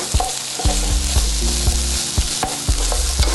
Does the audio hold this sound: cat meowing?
no